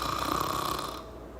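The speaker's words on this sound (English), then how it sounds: "Snoring is actually caused by your jaw falling back, causing the soft tissue to vibrate while you breathe." Snoring from a person, a steady rasping tone of soft tissue vibrating with the breath, moderately loud and close, fading slightly toward the end with no talking.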